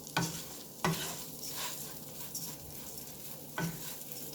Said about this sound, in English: I don't know if you guys can hear the sizzle or not.